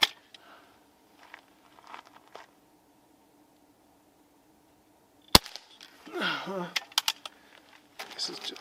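A Crosman 362 air rifle fires pellets in a quiet setting, a few sharp, sudden cracks spaced apart with soft handling clicks and rustles between them.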